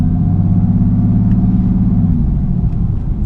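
A Mercedes-AMG GT S set to Sport Plus mode pulls away on a drive, its engine a loud, steady low rumble close up with slight rises in pitch as it builds speed, no voices over it.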